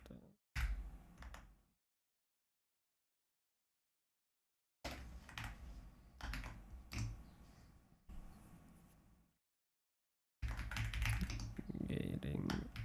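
Someone types on a computer keyboard in short bursts of quick clicking keystrokes, separated by stretches of silence, with faint speech around the typing.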